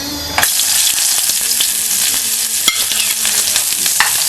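Onion hits a hot pot of oil with a sudden loud hiss that stays strong and crackling, close by, with light stirring taps and no talking.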